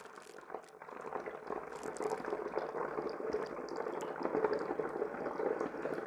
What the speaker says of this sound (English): We'll pour the bentonite in.